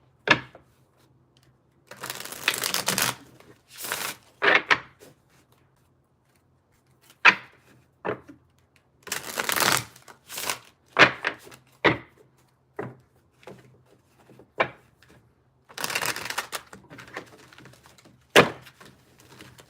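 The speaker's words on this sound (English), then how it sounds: "This is a slick deck. I really like the way this one shuffles and feels in my hands" A slick deck of playing cards is shuffled by hand, giving repeated bursts of crisp riffling and flicking, separated by quiet pauses and soft taps as cards settle, all close and alone.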